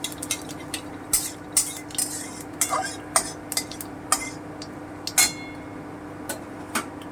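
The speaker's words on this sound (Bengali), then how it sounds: "আমার তেল গরম হয়ে গেছে এবারে আমি কালো জিরেটা দিয়ে দিচ্ছি" Nigella seeds dropped into hot oil for a bottle gourd leaf bata, a faint sizzle under scattered close clinks and taps of a utensil against the pan, no voices.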